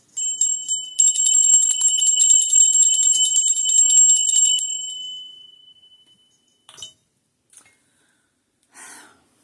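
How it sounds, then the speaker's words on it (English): A small bell is struck and left to ring, a bright sustained high tone holding for several seconds before fading, followed by a few brief faint clinks in near silence. "We're going to do the little bell."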